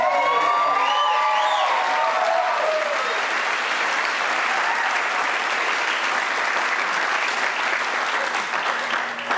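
A wedding reception crowd bursts into sustained applause and cheering for the bride, loud and dense throughout, with a few whoops rising early on.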